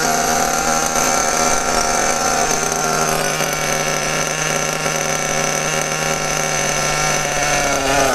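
A small RC nitro engine screams at high revs, a loud, continuous, buzzing whine with steady pitch that holds throughout, close by and without talking.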